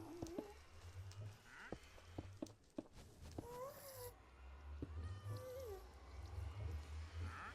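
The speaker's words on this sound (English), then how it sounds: "Oh, there's a cat out here." A cat meows repeatedly in the Minecraft video game, several short wavering mews at an even distance over a low game ambience and soft footsteps, with no talking.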